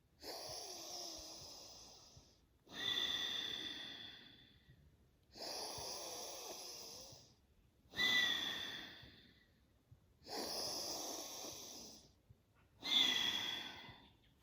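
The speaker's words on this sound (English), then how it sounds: "I begin my 3 big pumping breaths into the chest" Deep pumping breaths into the chest during a yoga and qigong breathing exercise, six long forceful inhales and exhales alternating at a slow, even rhythm, close and breathy with no talk.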